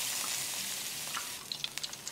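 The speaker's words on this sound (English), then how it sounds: "3 minutes of deep frying." Frozen Alaskan sockeye salmon deep frying in hot oil, a steady, quiet sizzling hiss with a few sharp pops and crackles toward the end.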